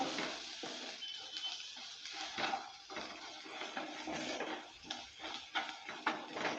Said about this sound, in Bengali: লবণ হলুদটা দেওয়ার পর ভালো করে আবারও নেড়ে চেড়ে নিচ্ছি